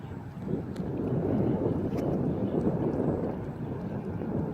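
Strong wind roars steadily across an open outdoor spot near water where an E-flite Valiant RC floatplane is flying, a dense low rumble buffeting the microphone continuously throughout.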